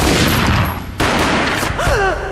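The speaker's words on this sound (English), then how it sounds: "A gunshot boomed and she fell down in slow motion." Gunfire in the video game Max Payne, a loud close boom with a sharp report near the middle, layered over dense game sound and ending in a ringing, descending tonal effect.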